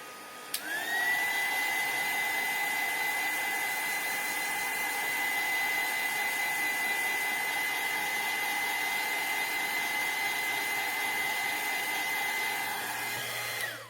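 Heat tool warming vellum for hot embossing, a steady close whirring blower with a constant whine running unbroken for the whole stretch, starting and stopping abruptly.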